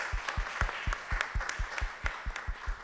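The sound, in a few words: audience applause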